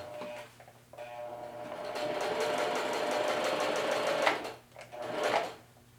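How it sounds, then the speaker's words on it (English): A sewing machine set to 1 mm zigzag runs a quick bar tack on a pocket, its rapid needle chatter steady and close for a few seconds, pausing briefly, then a short final burst. "So I'll put it on zigzag, go to 1 millimeter stitch length, 1 millimeter zigzag, and do a little bit of bar tacking."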